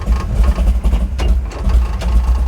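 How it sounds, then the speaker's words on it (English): A car engine fitted with an Edelbrock VRS 4150 carburetor idles roughly at about 500 RPM, a loud, close, uneven low rumble that lopes and stumbles as if it might stall, with no talking. "It's really struggling, but it's doing it. It might die. That's idling at like 500 RPM."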